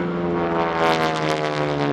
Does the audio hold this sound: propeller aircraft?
yes